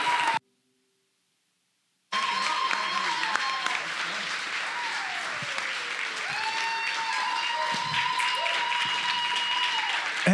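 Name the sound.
audience clapping and cheering to welcome Pastor Jonathan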